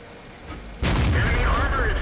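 A tank cannon fires in World of Tanks, a sudden heavy boom that rings on through the rest of the moment over faint game ambience.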